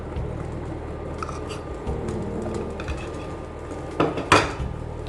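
A spoon stirs a soap mixture with turmeric powder in a bowl, making soft scraping and a couple of sharper clinks near the end, with a low steady hum and faint birdsong in the background.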